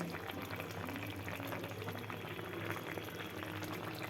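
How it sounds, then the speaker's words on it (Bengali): Tengra fish curry, a thin jhal, bubbling steadily in a pan on the stove, a continuous close simmer with soft popping bubbles and no talk. "মাছগুলো এখন একটু নাড়াচাড়া করে নেবো, একটু উতরাবে, ঢাকনা দিয়ে দেবো একটু।"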